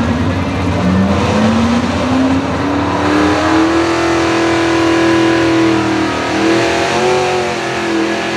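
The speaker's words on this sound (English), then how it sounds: "the sport of truck and tractor pulling" Truck or tractor pulling engine revving loudly at a pulling event in Dillwyn, a continuous close roar whose pitch climbs steadily over several seconds, then holds high and wavers as the load pulls.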